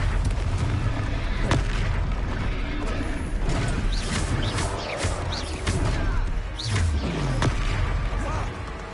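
A Confringo blasting spell in the game Hogwarts Legacy, booming explosions and crashing impacts amid a busy battle mix of creaks and mechanical clatter, with voices calling out over the noise.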